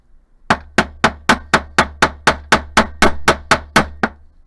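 A hammer strikes metal wire for ombre beaded hoop earrings, about thirteen crisp, evenly spaced taps in a steady rhythm, close and loud, with no talking.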